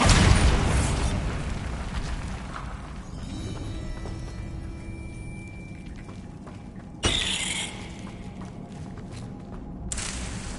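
A loud blast of the Bombarda explosion spell in Hogwarts Legacy opens with a booming burst, followed by rumbling debris and a second sharp impact, with no talking over it.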